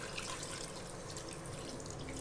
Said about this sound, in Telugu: ఇప్పుడు ఇలా మసాలాలో బాగా వేగిన తర్వాత వాటర్ వేసేసుకుందాం